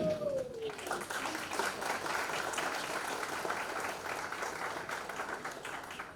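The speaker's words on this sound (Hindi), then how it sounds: "सिर्फ तालियों से पता लग सकता है।" An audience applauds at a book launch event, with dense, steady clapping that carries through the whole stretch at moderate volume, with a faint voice briefly at the start.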